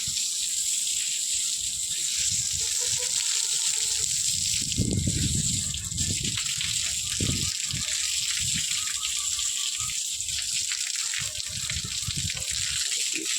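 Water gushes steadily from a hose onto fresh wall plaster, a continuous splashing rush with a few brief louder surges and faint background hiss.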